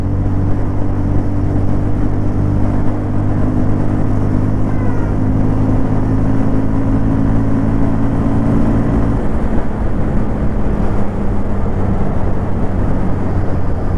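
A 2025 Bajaj Pulsar 150 Twin Disc motorcycle engine while riding, a loud, continuous droning hum with a steady low tone and wind rush, holding an even pitch throughout.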